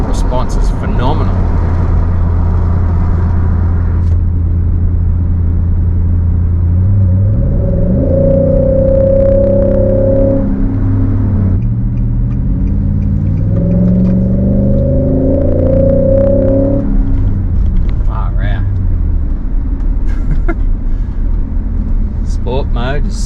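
Nissan Y62 Patrol engine through a Torqit cat-back exhaust, a deep rumbling idle that swells twice into rising revs under light throttle and settles back, loud and close with a voice talking over it.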